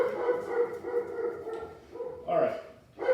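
A dog named Elsie, a puppy, gives short yips and whiny barks close by, several bursts with pauses between them, ending in a sharper pair of barks.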